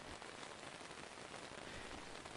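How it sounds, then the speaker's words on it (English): Steady dense rain patters on fabric directly overhead, a soft continuous hiss that is close and even throughout, with no voices. "The fabric closes behind you, and the sound of the rain changes."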